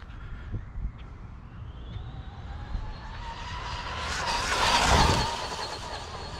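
A Traxxas Bandit VXL or Arrma Typhon RC car racing down a street at full speed, its whine rising from faint to a loud close pass with tire noise before fading away.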